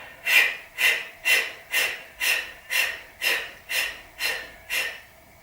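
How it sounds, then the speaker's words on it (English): Ten sharp puffs of breath forced out in an even, quick rhythm while the navel is drawn in during a beginner yoga session, each a close, breathy burst separated by short pauses. "as I breathe out, I'm going to pull my navel in and puff my breath out"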